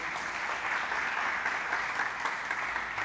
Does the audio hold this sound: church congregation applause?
yes